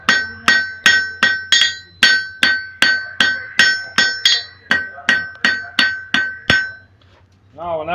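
A blacksmith forging a hammer head from hot steel strikes about fifteen sharp ringing anvil blows in a steady, even rhythm, each with a bright metallic ring, then stops.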